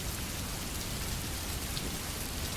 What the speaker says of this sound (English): I like the sound of rain a lot